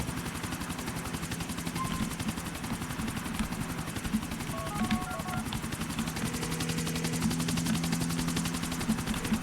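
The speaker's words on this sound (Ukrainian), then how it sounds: "Так, достав гелікоптер до злітно-посадкового майданчика." A helicopter in the video game GTA: The Ballad of Gay Tony, a steady rapid rotor chop and engine whine running the whole time with bursts of gunfire mixed in, no talking.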